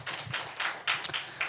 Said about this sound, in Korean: 격려의 박수 한번 더 주실까요?